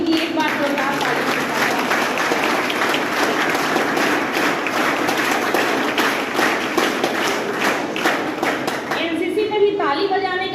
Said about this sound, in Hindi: तो मैं चाहूँगी कि एक बार जोरदार ताली